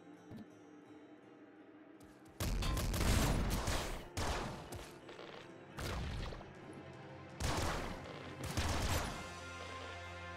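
Bouncer laser rifle fire in the Nuclear Throne Ultra Mod, four loud bursts of rapid crackling shots separated by short pauses over a quiet game background, with no talk.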